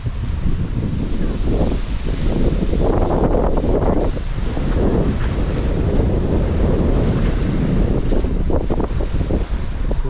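Loud gusting wind buffets the microphone while waves on Lake Sajno in Poland slosh and churn underneath, a constant rough roar throughout.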